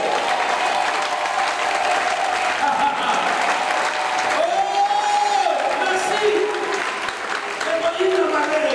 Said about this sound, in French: Acclamez plus que celui qui est à tes côtés.